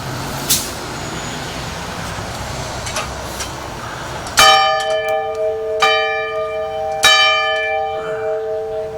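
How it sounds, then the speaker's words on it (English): A hand bell rung in honor at an outdoor Veterans Day ceremony, struck three times with bright ringing tones that decay slowly over steady outdoor background noise. "I'm going to ring this bell"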